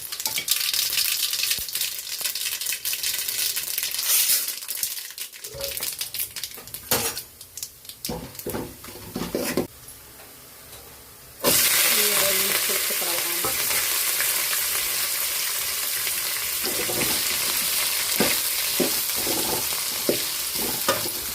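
Broad beans and onion sauté in a pan, a steady close sizzle with repeated scraping and stirring clatter of a utensil against the pan, briefly quieter partway through before the frying swells louder again.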